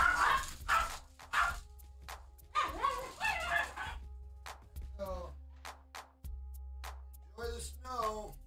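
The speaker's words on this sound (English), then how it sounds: "I'm gonna let these dogs out really quick, and then they're gonna cry." Dogs being let out into the snow bark, yip and whimper in short bursts at close range, with a hum underneath and gaps of quiet between outbursts.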